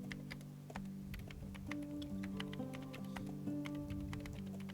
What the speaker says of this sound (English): Okay, so I'll start typing.